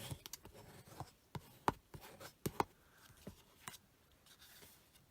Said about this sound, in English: use my bone folder